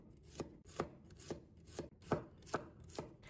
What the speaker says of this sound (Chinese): 再改刀切成蒜末。